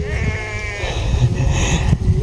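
Goats bleating near rice fields as a man herds them: several wavering bleats close by, repeated through the moment over low outdoor background noise.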